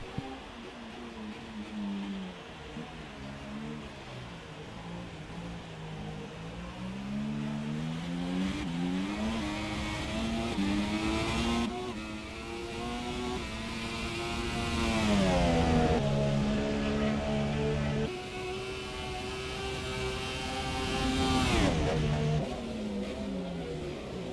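An F1 race car in the F1 video game howls through the Lesmo corners at Monza, a loud high-pitched engine whine rising and falling with upshifts and downshifts, continuous throughout.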